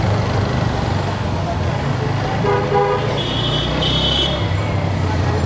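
Car horns sound in Dhaka city traffic, with a few short toots and a longer honk over a steady roar of engines and road noise. A voice talks over it.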